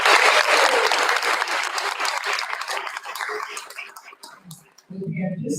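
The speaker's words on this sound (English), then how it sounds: "One last round of applause for Ken" An audience at a board meeting claps loudly and continuously, the applause gradually thinning out and fading toward the end, with a few voices rising as it dies down.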